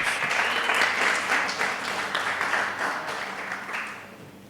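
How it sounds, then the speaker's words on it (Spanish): Church congregation applauding during a sermon, a dense steady wash of many hands clapping that slowly fades over a few seconds, with no talk over it. "vamos a dar un aplauso a Jesús"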